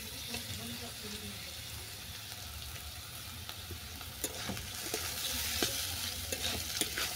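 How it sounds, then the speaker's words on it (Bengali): Boiled vermicelli stir-fried with onion and vegetables in a pan for chicken simai chowmein, a steady low sizzle with scattered clinks and scrapes of stirring, faint and close, with no talk. "পেঁয়াজটা সবজির সঙ্গে হালকা করে ভেজে নেওয়ার পর আমি তুলে দিচ্ছি সিদ্ধ করা সিমুই।"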